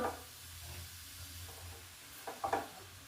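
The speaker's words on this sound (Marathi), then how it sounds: "आता हे सर्व जे गाजर आहे ते आपण तूप गरम झाल्यावर टाकून घ्यायचं आहे कढईमध्ये सर्व" Carrots dropped into hot ghee in a kadhai hiss faintly and steadily, with a couple of brief louder sizzling bursts and stirring scrapes near the end, fairly quiet and close, no talking.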